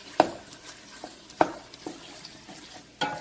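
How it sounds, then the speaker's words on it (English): A wooden spoon stirs tomato paste into browning meat in a pot, with soft scraping strokes and a steady sizzle beneath, a few sharper knocks against the pan. "then we're going to stir with our trusty little wooden spoon"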